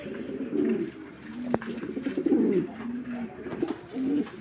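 Pigeons, including Roman pigeons, coo softly in low, rolling phrases, repeating several times close by, with a brief sharp tap partway through.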